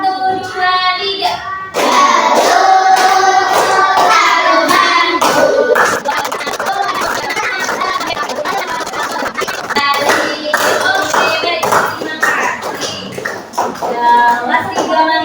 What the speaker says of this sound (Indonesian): Semuanya menyanyikan lagu Halo Halo Bandung dengan tepuk tangan.